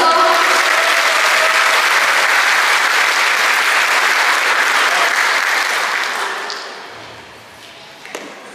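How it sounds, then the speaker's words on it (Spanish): Loud, sustained applause from a concert audience closes a Christmas cantata by a chamber ensemble and choir, holding strong for about six seconds before tapering off into a few scattered claps. "Fuerte aplauso."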